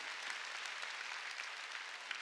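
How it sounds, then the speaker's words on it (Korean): A church congregation at a Sunday worship service claps together in steady, dense applause that fills the room evenly with no talking. "깨달은 사람 박수 치라고요"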